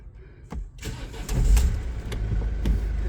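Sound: Mercedes Sprinter 514 van engine starting

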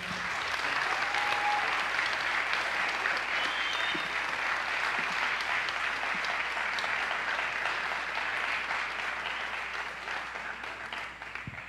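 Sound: audience applause

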